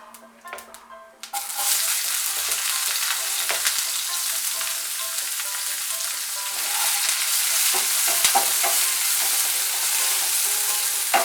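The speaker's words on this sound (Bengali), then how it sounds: "পেঁয়াজটাকে একটু ভেজে নেব।" Chopped onion with whole cumin seeds sizzles loudly in a hot pan for a Bengali potol chingri dish, bursting into a steady, close frying hiss after a quieter start, with occasional stirring clatter.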